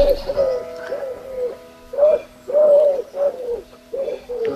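An owl calls repeatedly in a wood, a series of soft, low, rounded hoots in an uneven rhythm, fairly close and clear against a quiet background.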